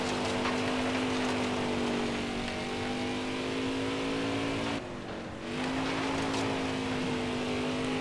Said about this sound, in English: Even going down the straightaway, not even turning the car, you can hear the tires.